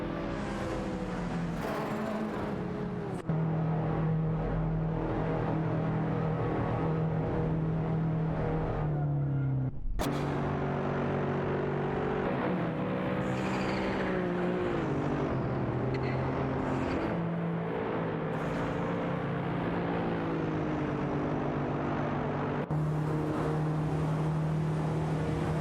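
Race cars in an AI racing video game roar past one after another, engines rising and falling in pitch as they pass near and loud, with a sharp cut midway and continuous engine drone.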